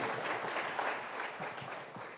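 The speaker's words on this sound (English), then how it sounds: "give a round of applause to the students and their efforts" A crowd at a breakfast keynote event applauds the students, a dense, steady wash of clapping at moderate volume lasting a couple of seconds.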